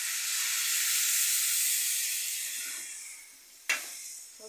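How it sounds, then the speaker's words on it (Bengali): Water is poured into a hot pan of mixed vegetable curry, giving a loud steady hiss and sizzle that slowly fades, then a sharp brief clatter near the end. "এবার দিয়ে দিচ্ছি জল।"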